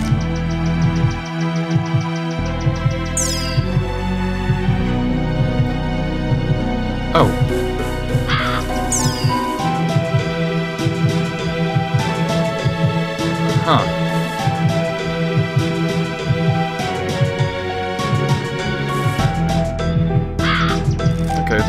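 Crows cawing in the video game A Quiver of Crows, repeated harsh caws layered over continuous game music and sound effects while a person talks throughout.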